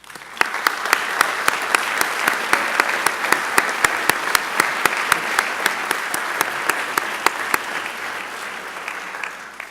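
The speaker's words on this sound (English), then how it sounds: "we'd love to give you a round of applause" A lecture audience at the 10th Gruhn Lecture gives a long, steady round of applause, with a few louder individual claps standing out above the even crowd clapping.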